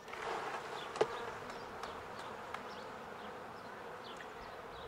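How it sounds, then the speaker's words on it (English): A steady buzz of honey bees from the upper box of a spring hive fills the air, with one sharp knock early on and a few faint clicks over the constant drone. "These are the bees from the upper box."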